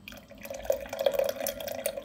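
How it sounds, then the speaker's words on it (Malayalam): Melted liquid for neyyappam pours into a mixer jar in a brief, steady trickle, close and moderately loud, without talk. "ആ ഉരുക്കി വെച്ചത് ഈ ഇതിലോട്ട് ഒഴിച്ചു കൊടുക്കാം"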